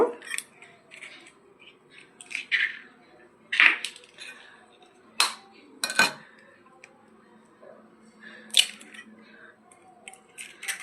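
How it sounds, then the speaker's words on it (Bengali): Eggplant and egg omelette batter is mixed in a bowl with a utensil, giving sporadic clinks, scrapes and squishy stirring sounds, close and fairly quiet with pauses between strokes. "এইটাকে আমি এখন ভালো করে মেখে নেবো"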